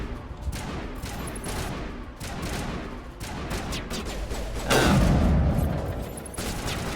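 Gunfire in the Mass Effect video game crackles in dense bursts throughout, with a louder, heavier volley building near the end over a steady game soundscape.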